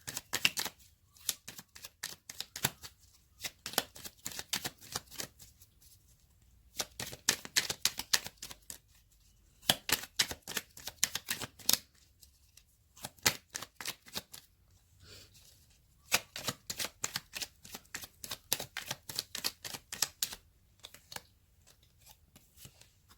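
Angel cards being shuffled by hand, bursts of rapid crisp riffling clicks repeating in rhythmic runs with short pauses between, close and fairly quiet with no talk.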